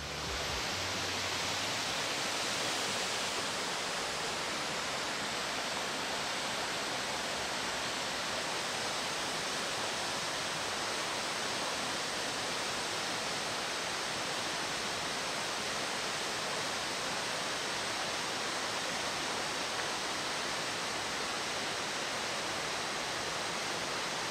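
Plera waterfall in Friuli Venezia Giulia, a steady, dense roar of falling water that holds constant throughout, loud and unbroken with no voices.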